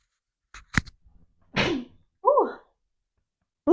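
A single sharp human sneeze bursts out close and loud, followed by a brief spoken exclamation.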